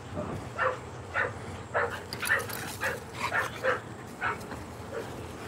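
A bulldog and staff cross dog barking in a series of about ten sharp, fairly close barks and yips at an uneven rhythm, with a low hum underneath.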